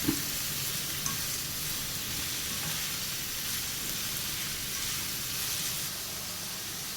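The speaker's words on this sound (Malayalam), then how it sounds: "ഇതും കൂടെ നമുക്ക് നല്ലതുപോലെ ഹൈ ഫ്ലെയിമിലൊന്ന് വാട്ടിയെടുക്കാം" Capsicum and onion sauté in a pan over high flame, a steady, close, rain-like sizzle that continues unbroken throughout.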